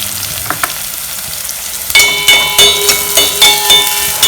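Whole cloves and cardamom hit hot oil in a pan, a quiet hiss breaking into loud crackling sizzle with a run of sharp spattering pops and stirring clatter.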